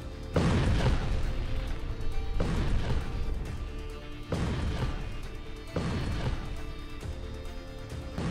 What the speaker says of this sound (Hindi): तुर्की का यह super bunker buster bomb 7 metre की कंक्रीट को भेद कर आगे बढ़ता है और फिर धमाका करता है।